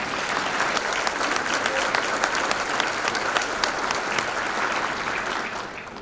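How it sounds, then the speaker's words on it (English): Dense, steady audience applause for sponsors at the Bay Area Chamber of Commerce State of the Community luncheon, a roomful of clapping hands heard up close that holds evenly for about six seconds before tapering off at the end. "Let's give them a warm round of applause."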